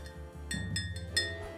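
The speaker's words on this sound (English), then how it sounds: "I can add a little stir here" A cocktail stirred in a glass before being topped with lager, giving a few light, bright clinks spaced across a short moment over a soft low background.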